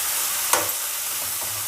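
Sliced okra being sautéed in a pan, a soft continuous sizzle with one brief scrape of a spoon partway through, close and fairly loud, no talking.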